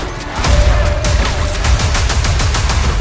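Rapid, loud gunshots crack in a quick volley during a bank robbery in Red Dead Redemption 2, several sharp reports following one another closely with a low rumbling tail.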